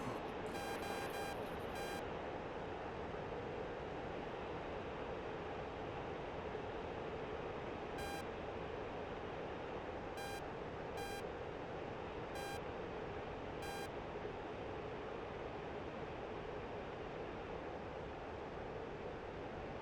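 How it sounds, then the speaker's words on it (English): Short electronic cockpit warning beeps from a DCS flight simulator jet sound in a quick cluster at the start, then as single tones spaced a few seconds apart over a steady rushing wind-like hiss. "Yeah, I'm hearing a lot of beeping."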